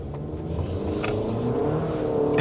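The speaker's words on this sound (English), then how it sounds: "It's spinning the front tires there because it's not sending power to the rear unless I push the mode button here to put it in all-wheel drive." Front tires of a 2024 Cadillac XT4 spinning in front-wheel drive as it pulls through a right turn, a steady loud engine rev and tire whir that holds constant throughout.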